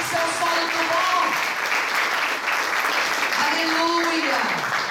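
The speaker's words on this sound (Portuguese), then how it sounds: "Aplauda o Senhor, porque esse terreno tem que ser um solo do bom." A church congregation applauds in a steady, dense wash of clapping that holds at an even loudness from start to finish, with voices calling out faintly over it.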